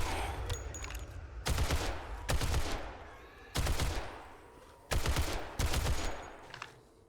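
A heavy gun fires in 7 Days to Die, loud separate bursts of shots at uneven intervals in a wasteland area. No one talks over the gunfire.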